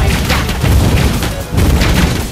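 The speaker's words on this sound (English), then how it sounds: "You have destroyed the turret!" A turret in the Mobile Legends video game is destroyed, giving heavy booming crashes with splintering debris, one burst at the start and another partway through, loud and dense across the whole moment.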